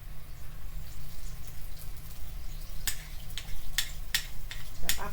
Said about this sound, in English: you should be able to hear a nice little sizzle going on there